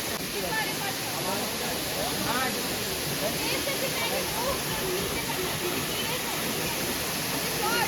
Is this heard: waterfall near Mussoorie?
yes